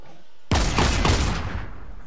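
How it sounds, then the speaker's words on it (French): A pump shotgun fires in Fortnite: one sharp, loud blast that starts abruptly and is followed by a brief rattling decay and tail. "Fusil à pompe."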